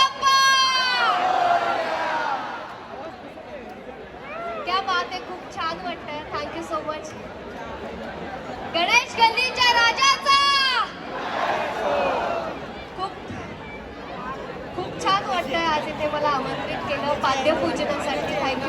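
A large, dense crowd at the Mumbai Cha Raja Ganesh Patpujan ceremony, close-up chatter and shouting voices overlapping with bursts of cheering and cries, while a person talks nearby.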